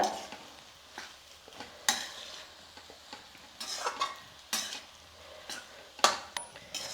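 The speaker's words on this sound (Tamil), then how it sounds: "சாதம் போட்டதுக்கப்புறம் நல்லா கலந்து விடுங்க." Egg rice being stirred in a hot pan: a spatula scrapes and knocks against the pan in irregular strokes over a faint sizzle, close and fairly quiet, with no talking.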